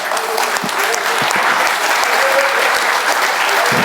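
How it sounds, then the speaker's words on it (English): An Easter conference congregation claps loudly and continuously in a church-style gathering, a thick roar of hands with a few low thumps and voice bursts mixed in over roughly four seconds. "Go ahead and God, give him the mighty the clap that he's supposed to have."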